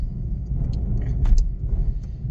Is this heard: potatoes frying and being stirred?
no